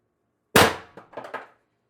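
An airsoft gun fires a single steel ball bearing with a sharp, close crack, followed by a few quick, fainter rattling knocks as the ball strikes and bounces.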